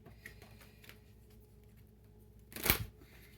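Tarot cards get shuffled in one quick, crisp riffle burst, close and fairly loud against a quiet room.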